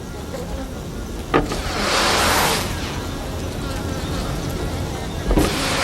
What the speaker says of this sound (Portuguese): Dentro da colmeia, a colônia inteira começa a criar uma onda de som.